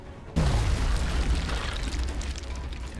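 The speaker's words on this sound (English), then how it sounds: "Throwing grenade." Grenade exploding in XCOM Enemy Within with the Long War mod: a sudden loud boom after a short quiet lead-in, with a deep falling rumble and crackling debris that slowly fades, no speech.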